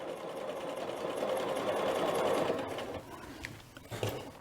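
A sewing machine runs steadily, stitching the under collar and interfacing of a dress facing (McCall's 8031), a continuous whir for about three seconds, then stopping into a few light clicks and handling sounds.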